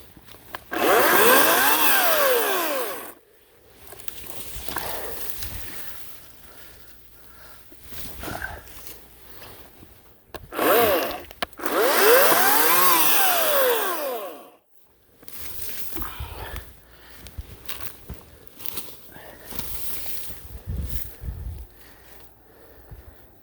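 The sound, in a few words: Ryobi 18 inch electric chainsaw cutting a birch tree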